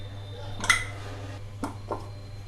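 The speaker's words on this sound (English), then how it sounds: "I am opening the lid of the pressure cooker." A pressure cooker lid on a pot of mutton dum biryani comes open with a sharp metallic clank followed by two softer knocks, set against a low steady kitchen hum.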